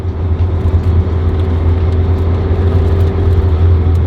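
A 1980s-era Mazda 323 GT engine hums steadily with a low rumble as the car rolls along the road, continuous and close, with road noise throughout.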